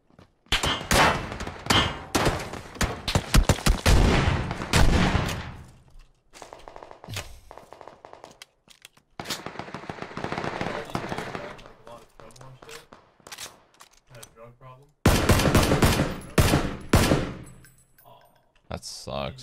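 Rifle shots from Kar98 and SLR weapons in PUBG ring out in rapid volleys and scattered single cracks, loud and close, with gaps of quieter ambience between bursts.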